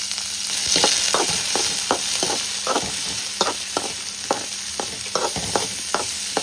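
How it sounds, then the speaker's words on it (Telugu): Black-eyed peas frying with onion in a pan, a steady loud sizzle punctuated by regular scraping stirs of a spoon, close up with no voices. "కొద్దిగా ఆనియన్ వేసి వీటిని వేయించుకోవాలి"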